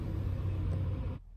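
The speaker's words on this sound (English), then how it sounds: "Garbage truck." A garbage truck passes on a residential street, a low, heavy engine rumble heard from a moderate distance that holds steady for about a second and then cuts off abruptly.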